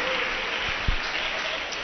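A church congregation breaks into steady, close applause that fills the whole short stretch, with a couple of louder claps near the middle.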